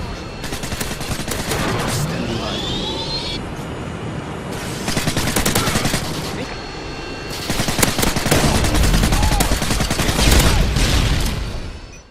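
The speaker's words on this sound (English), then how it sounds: "You had one of the coolest and most nostalgic firing sounds in Call of Duty history." Suppressed submachine gun, the UMP from Call of Duty, fires in sustained automatic bursts with brief pauses between strings, loud and close, with dense rapid reports filling the whole stretch.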